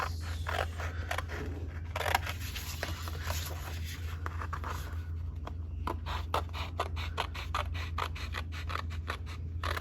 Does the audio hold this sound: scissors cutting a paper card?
yes